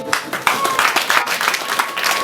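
Applause from a wedding audience, with many hands clapping in a dense, continuous patter that is fairly close and sustained, with a faint voice beneath.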